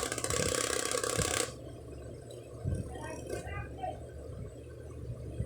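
An electric clip fan blower being played with by a child whirs loudly for just over a second, then cuts off, followed by quieter thumps and people talking.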